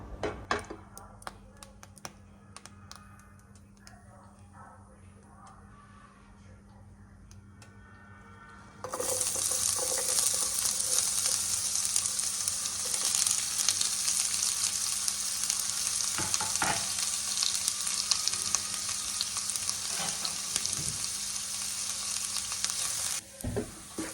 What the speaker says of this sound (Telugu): ఆయిల్ వేడెక్కగానే ఆనియన్స్ వేసేసుకోవాలి